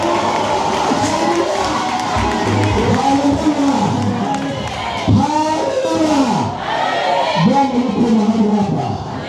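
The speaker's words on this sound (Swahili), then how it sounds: "Mshangilie wewe kwa makofi na vigelegele." A church congregation at a church inauguration cheers loudly, with high ululating trills rising and falling in repeated waves over a dense crowd roar and clapping, close and sustained throughout.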